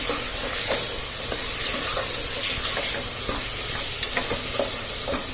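Masala khichdi is stirred in a pan with soft, irregular scraping strokes over a continuous gentle sizzle, close up and with no voices.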